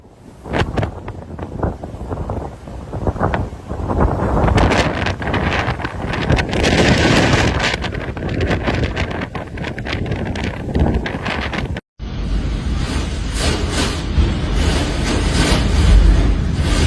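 Strong Storm Amy winds buffet the microphone with a loud, continuous roar that surges in gusts throughout, broken only by a momentary dropout near the end.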